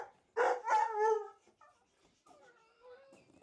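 A dog gives two loud, close barks or yelps in quick succession, followed by a few softer whining and whimpering sounds that trail off.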